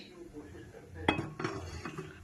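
A couple of sharp metallic clanks as a pressure cooker is set down on a stovetop, with faint kitchen background noise before and after.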